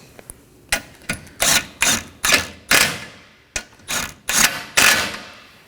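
Ratchet and driver bursts sound up close while the radiator mounting bolts on a 2015-2023 Nissan Maxima 3.5L V6 are snugged down, about ten sharp whirring pulses in an uneven rhythm with brief gaps between them.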